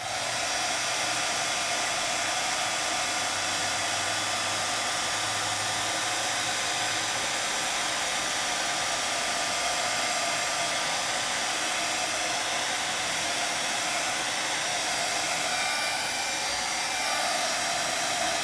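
A heat embossing tool blows steadily over a paper craft project, a loud, continuous whirring hot-air roar that holds unbroken throughout with no talking.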